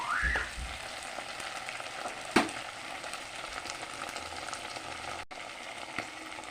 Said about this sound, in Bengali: টমেটো সস কেটেছি এটা দিয়ে দেব নাড়াচাড়া করবো যাতে কাঁচা গন্ধটা চলে যায়